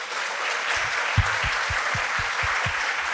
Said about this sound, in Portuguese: Gente, uma salva de palmas,